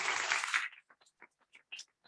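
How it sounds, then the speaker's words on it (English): A short round of applause for a presenter at a charity giving event: a burst of clapping from a small audience that quickly dies away into a few scattered, separate claps. "Big round of applause."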